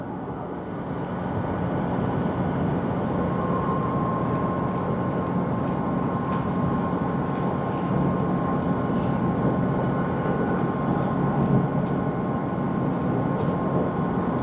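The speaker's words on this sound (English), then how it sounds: "It is, of course, the Boeing 787-9 Dreamliner from what we see" Boeing 787-9 Dreamliner taxiing at Tokyo Haneda Airport, a steady, continuous jet engine rumble and whine held at a constant level throughout, moderately close with no voices.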